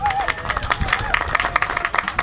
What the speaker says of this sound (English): So please give them all a nice round of applause.